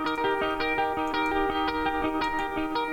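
An electric guitar DI track played back in a DAW, with clean, dry, evenly strummed chords in a steady rhythm, bright and close, with no talking.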